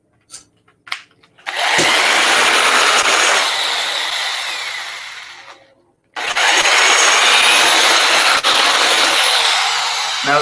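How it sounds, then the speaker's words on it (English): Power drill countersinking a hole for rivets in a prop hidden blade build, two loud sustained whirring bursts up close after a few small knocks, the first tapering off before the second starts abruptly. "I'll countersink it while I'm looking."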